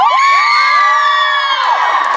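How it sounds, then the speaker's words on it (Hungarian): A concert audience at a shopping-centre show lets out a long, loud, high-pitched collective scream, sustained and shrill for a couple of seconds before tapering slightly. "hadd halljak neki egy nagyon hangos sikítást"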